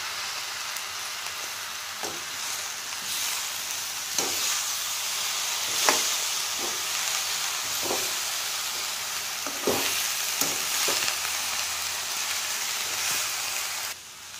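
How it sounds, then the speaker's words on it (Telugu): Mint leaves stirred into fried peanuts and ivy gourd in a hot pan, a constant sizzle broken by repeated scraping spoon strokes at uneven intervals, close up with no talking. "ఇప్పుడు పుదీనా వేసుకుంటాం. సరే, ఇప్పుడు కలుపుతున్నాం."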